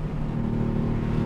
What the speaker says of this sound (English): Here's the first Redline, everybody.